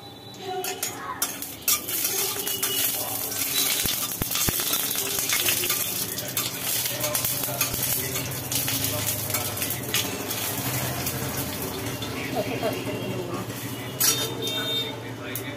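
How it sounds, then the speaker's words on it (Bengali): Five-spice seeds and a dried red chilli hit hot white oil in a kadai, giving a steady sizzle with occasional clinks of a utensil while a person talks throughout. "ফেলে দিল 5 ফোড়ন আর একটা শুকনো লঙ্কা"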